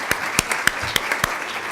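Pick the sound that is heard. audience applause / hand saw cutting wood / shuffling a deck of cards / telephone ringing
audience applause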